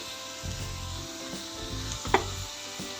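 Onions sizzle and fry in butter in a pan with a steady crackle while a utensil stirs them, scraping and knocking against the pan, including one sharper clink.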